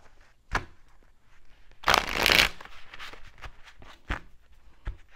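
A tarot card deck is shuffled up close, giving crisp riffling bursts and scattered sharp card snaps that stand alone over a quiet background.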